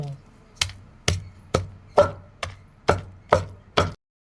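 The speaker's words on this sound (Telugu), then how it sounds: "ఇగో వెయ్యి, నువ్వు దంచేసుకో" Garlic being pounded in a stone mortar for a mint and dried chilli chutney, eight heavy, evenly spaced thuds about half a second apart, close and loud, with no talking.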